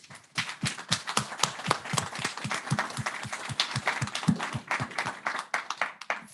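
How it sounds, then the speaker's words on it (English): Audience applause for a small festival team at an evening event, a steady, dense burst of many hands clapping close by and filling the room without pause. "this small, hardworking team behind it deserve a round of applause"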